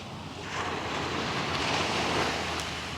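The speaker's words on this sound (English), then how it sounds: "enjoy the beach, enjoy the waves," Ocean waves wash onto a beach beside the Pacific Highway in a steady, broad roar that swells after the first half second, with wind buffeting the microphone and no talking.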